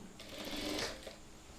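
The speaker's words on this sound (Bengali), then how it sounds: "এখন আমি সেলাই করছি" A sewing machine runs in one short, quiet burst while stitching a men's shirt, giving a faint rapid whirring chatter over a low background.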